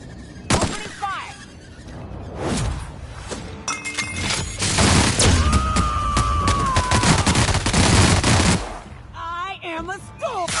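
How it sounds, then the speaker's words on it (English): Rapid bursts of gunfire in The Outer Worlds, loud and dense, with repeated shots and impacts filling most of the stretch and a voice speaking briefly around them. "Opening fire!"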